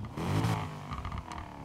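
Mercedes-AMG C63 Coupe engine in Need for Speed Heat giving a short, loud rev that rises and then settles into a throbbing idle.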